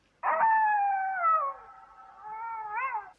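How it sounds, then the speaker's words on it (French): A wolf gives a single long, sustained howl, clear and close, holding a steady pitch before dipping and rising again at the end, heard alone against silence. "c'est le hurlement du loup"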